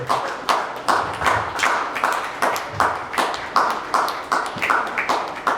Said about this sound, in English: Let's keep clapping for our panelists to the rest of them.